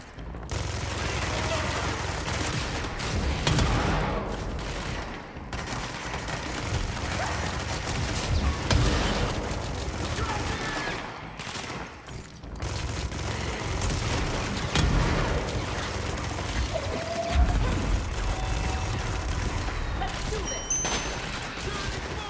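Gunfire from a weapon in the game Control: near-continuous rapid shots and blasts forming a dense barrage with short gaps, loud and close, with crashes and mechanical clatter mixed in and voices talking underneath.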